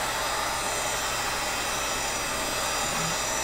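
A heat gun blows a constant, loud, even whoosh of hot air while heating PVC pipe, with no breaks in the sound.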